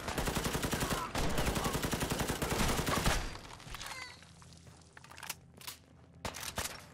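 Fallout 4 gunfire starts as dense, rapid automatic bursts for about three seconds, then drops to a few scattered, sharper single shots spaced out across the rest of the clip.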